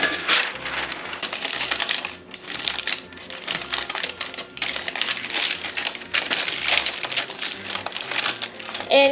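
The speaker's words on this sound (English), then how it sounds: "fold our parchment up" Parchment paper is folded up at the corners to form a lifting handle for a baking pan, producing bursts of crisp crinkling and crackling with brief pauses between them, close and fairly loud.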